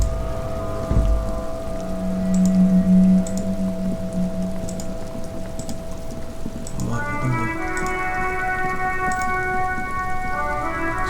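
Steady rain hiss in the video game Disco Elysium runs throughout beneath sustained tonal music and hum, with occasional faint drips; no talking.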